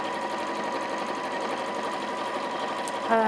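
A domestic sewing machine runs a straight line across the top of fabric at a 2.8 stitch length, a steady close mechanical whir and rapid needle chatter without pause, ending with a brief clunk.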